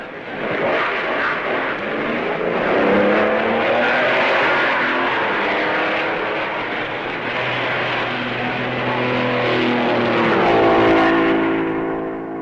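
A 1950s Formula 1 racing engine, a Maserati pulling away from the pits after plug trouble, with a loud, sustained engine roar that builds and shifts pitch while the car accelerates, sounding close.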